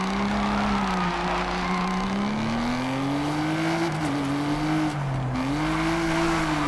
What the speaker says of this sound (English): Oh, it spins around, spins out.